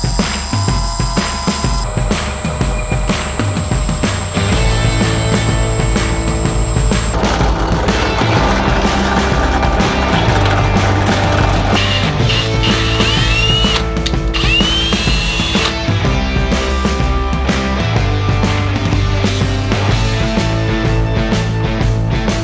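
A metal lathe machines a part for a cam-driven hammer machine, with a steady whirring, grinding and scraping of the cut, loud and continuous, shifting in tone as the work proceeds.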